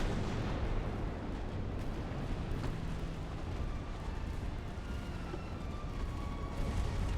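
Naval artillery from warships in Ultimate Admiral: Dreadnoughts rumbles as a steady, dense barrage of distant booms, a continuous low roar with no voices over it.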